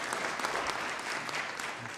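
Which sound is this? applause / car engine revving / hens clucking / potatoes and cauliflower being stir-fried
applause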